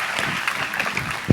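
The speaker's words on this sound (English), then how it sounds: "Round of applause for our president, for the President of the Republic of Ghana." Brief burst of audience applause for the President of Ghana at a national teachers' delegates conference, a short patter of clapping from a hall crowd, moderately loud.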